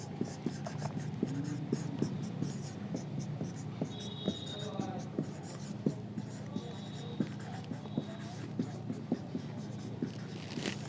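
Pen or pencil writing out a metric space proof by hand, with scratchy strokes and soft taps on paper in a steady, close rhythm under faint room noise.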